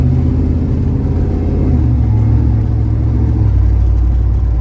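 A ZL1500 car with a 10-speed transmission drives on a road. A loud, steady low engine drone fills the cabin, with a slight shift in pitch midway and no voices.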